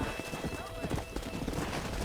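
Horse hooves clip-clop steadily in Red Dead Redemption, with a brief whinny and game dialogue talking over the rhythmic galloping throughout.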